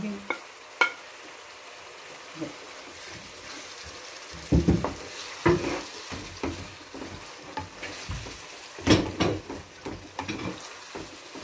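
Green chillies frying in a pan for brain fry (bheja fry), with intermittent stirring scrapes and sizzle bursts over a steady low background, heard up close with no talking.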